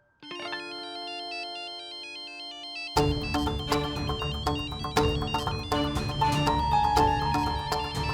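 A phone ringtone rings from inside a bag: a looping electronic melody plays alone at first, then swells into a fuller, busier tune with rhythmic beats after about three seconds.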